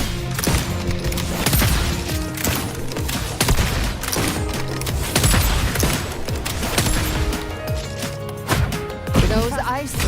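Rapid gunfire bursts from a fast-paced action video game, dense and loud, layered with music, impacts and other game effects throughout.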